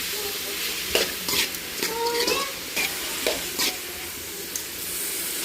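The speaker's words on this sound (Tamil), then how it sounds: "இப்போ கத்திரிக்காயும் சௌச்சவும் எடுத்து போட்டுக்கலாம். நல்லா கிளறி விட்டுக்கலாம்." Brinjal and chayote stirred and sautéed in a hot pan, a steady close sizzle broken by repeated scraping strokes of the spoon.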